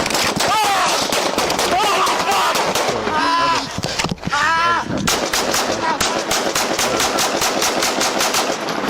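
Rapid gunfire during a police bodycam arrest: loud, close, repeated sharp shots in dense bursts, with shouting voices breaking through between volleys.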